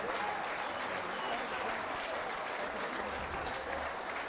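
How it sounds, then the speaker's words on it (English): Steady crowd applause at a 2018 Rugby Africa Gold Cup match between Namibia and Uganda in Windhoek, clapping off injured player Lawrence Sibuliba; a dense, continuous patter of many hands heard from a distance throughout. "So Lawrence Sibuliba is being clapped off"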